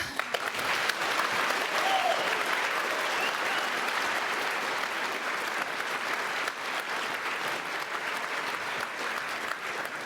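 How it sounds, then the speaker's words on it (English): Sustained audience applause at a CSS programming talk at the 39C3 hacker congress, dense steady clapping from a large crowd lasting throughout, with a few voices mixed in. "And maybe another round of applause."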